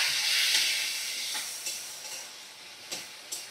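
Water splashed into a hot pan of papaya and poppy-seed curry gives a broad, steady hiss and sizzle that slowly fades, with a few soft clinks of a utensil scattered through it and no talking.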